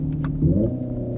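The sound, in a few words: Hyundai Ioniq 5 N electric car drivetrain sound while driving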